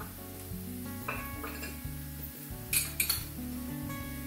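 Ginger and garlic going into browned onions in a frying pan for beef tongue curry, with a light sizzle, a few metal clinks of utensil on pan and stirring, under steady background music.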